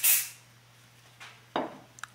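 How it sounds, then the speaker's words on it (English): Two short hissing bursts of Hoppe's No. 9 Gun Medic cleaner and lubricant sprayed into a firearm, close and fairly loud, with a strong first spray followed by a brief second one and small clicks in near quiet. "I will be spraying some of this Hops No. 9 Gun Medic"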